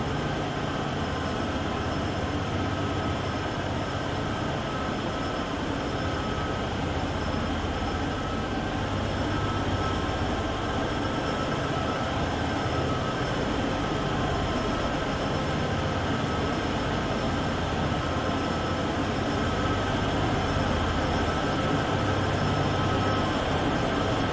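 A heavy coal train climbs Sherman Hill out of Cheyenne Yard in the game Train Sim World 2, giving a continuous, steady rumble of rolling wagons and engine drone with no break.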